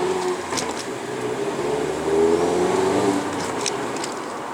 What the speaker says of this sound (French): Un gros freinage ici pour le T gauche.